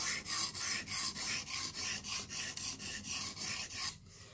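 A knife blade grinds on a Blitz 360 sharpener in about a dozen even, rhythmic rasping strokes, loud and close, then stops abruptly, with no talking.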